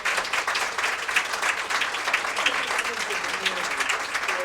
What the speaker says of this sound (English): Let's please give a huge round of applause.